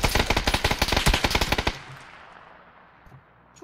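Rapid machine-gun fire in the PUBG video game on the Sanhok map, a loud, dense burst of evenly spaced shots lasting nearly two seconds before cutting off, followed by fading ambience and a couple of faint distant thuds.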